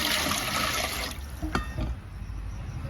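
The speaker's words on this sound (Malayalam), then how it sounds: "അതിനകത്തോട്ട് നമുക്ക് വെള്ളം കൂടി ഒഴിച്ചു കൊടുക്കാം." Water pours into a copper pot set up for boiling tapioca, a loud continuous rushing splash for about a second before settling into quieter dripping and trickling.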